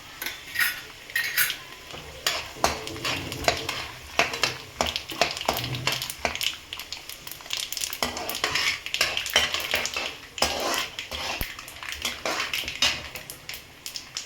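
Chana dal and sesame seeds frying in a pan while a metal spoon stirs and scrapes, producing irregular clinks and scratches over a light, continuous sizzle.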